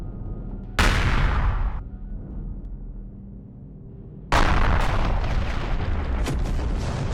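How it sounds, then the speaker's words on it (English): Incoming weapon fire strikes a ship in Empyrion Galactic Survival (Reforged Eden): two loud, broad explosive bursts land about three seconds apart, the first fading to a low rumble and the second holding steady and roaring to the end. "Now we're receiving fire."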